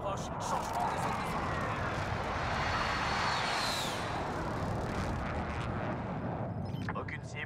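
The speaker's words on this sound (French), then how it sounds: "Envoyez une frappe aérienne sur ma cible." Air strike in Call of Duty Warzone: a jet roars overhead with a rising then falling whoosh near the middle, over a dense rumbling barrage of explosions and gunfire, with in-game radio voices talking throughout.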